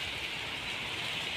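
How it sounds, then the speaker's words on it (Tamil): Steady rain falling outdoors, a soft, even hiss with no distinct drops standing out, faint and continuous throughout. "மழை வருது."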